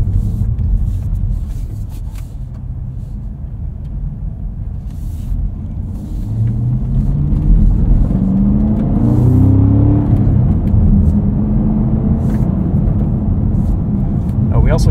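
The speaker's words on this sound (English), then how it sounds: "Suspension and sport. Easy to heel-toe downshift." 2024 Cadillac CT5-V Blackwing engine rising in a deep rumbling rev during a heel-toe downshift, a steady low drone heard from inside the car that swells midway and then settles back.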